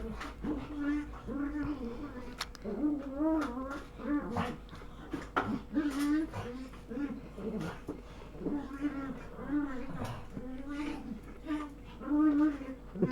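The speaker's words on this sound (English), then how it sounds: "You hear my dogs in the background." Several dogs whimper and give short yips in the background, recurring irregularly throughout at a moderate distance, mixed with steady room noise.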